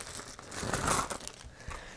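Plastic cubes from the Dungeon Drop board game go into a bag, giving a brief, soft crinkling rustle at close range, heard alone with no talk.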